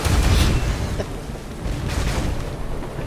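Naval cannon fire in Pirates of the Caribbean Online: heavy booms roll out, one strong blast at the start and another a moment later, over a constant low rumble.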